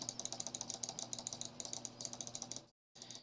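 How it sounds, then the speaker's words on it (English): Rapid clicking at a computer while playing a point-and-click game sounds as a fast, even run of sharp, close taps. The taps break off briefly, then resume for a few more clicks. "I'm clicking pretty fast on this thing"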